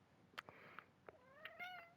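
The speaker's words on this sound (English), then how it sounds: "Shout out to my cat meowing if y'all heard that." A house cat meows several times in quick succession, including a longer rising call, close to the microphone in an otherwise quiet room with no talking.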